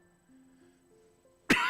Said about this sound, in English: Sorry, I have a little cough today.